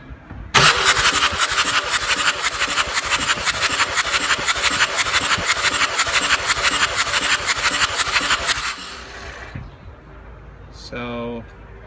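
A Mercedes 603 turbo diesel engine cranks over steadily for about eight seconds during a compression test, its starter churning in a fast, even rhythm, loud and close, before stopping, followed by a brief voice.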